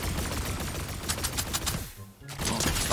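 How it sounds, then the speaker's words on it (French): Rapid automatic gunfire in the video game Fortnite, arena mode, dense bursts of shots for about two seconds, then a brief pause before the firing resumes, loud and close. "comment elle tire vite!"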